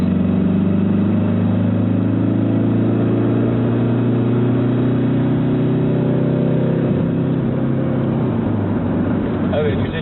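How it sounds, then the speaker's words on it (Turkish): A Ford Tourneo Connect van's engine surges as the driver floors it from 60 to 100 km/h, a loud, steady, rising drone heard from inside the cabin with no break. "Bastı dip gaz."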